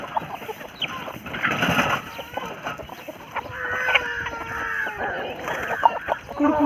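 Several free-range chickens being let out of a coop cluck and squawk nearby in a busy, irregular chatter, with occasional rustling movement among them.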